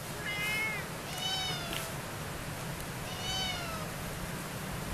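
Several cats meow at a shrine, high drawn-out calls coming in bursts near the start, around one and a half seconds and again past three seconds, over a steady low background hum.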